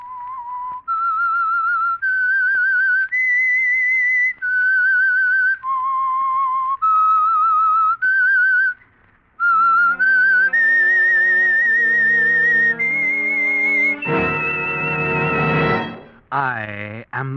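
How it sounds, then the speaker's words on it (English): A clear whistled melody, the theme of the radio program The Whistler, loud and close, of sustained tones. Midway a fuller, reedier instrument takes up the tune and ends on a wavering swell. "That whistle is your signal for the Signal Oil program"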